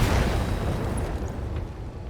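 A BattleTech mech weapon lets off one heavy blast, and its booming explosion rolls and fades over two seconds, loud and low with a lingering rumble.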